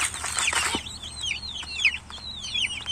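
A hen circles outside a cage, calling to three chicks shut inside; a few soft clucks open, followed by a repeated series of high, thin chick peeps, fairly close and quiet.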